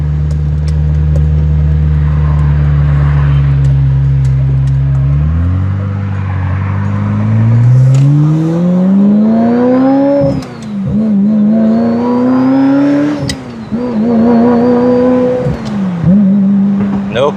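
A 1997 Ferrari F355 Spider engine roars loud and close while driving, idling low before climbing through rising revs, then surging and dipping between gear changes.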